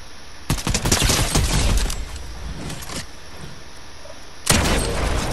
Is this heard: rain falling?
no